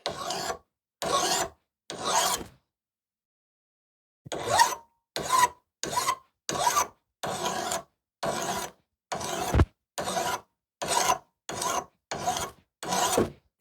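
File strokes removing the burr from the edge of an old axe during sharpening: about fifteen crisp, close rasping passes in a regular back-and-forth rhythm, with a short pause near the start.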